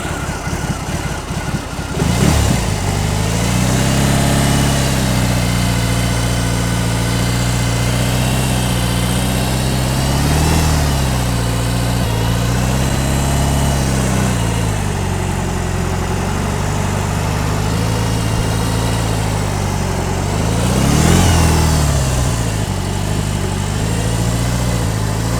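A 2022 BMW R18 Transcontinental motorcycle engine runs steadily and loud throughout, a deep continuous drone with brief throttle swells and dips as the bike is ridden.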